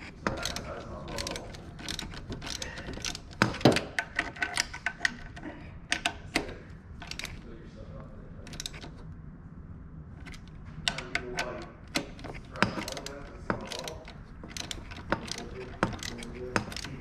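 Ratchet clicking in quick bursts while throttle body bolts are tightened on an upper intake, close and fairly quiet, with pauses between runs of clicks and a few louder metallic knocks.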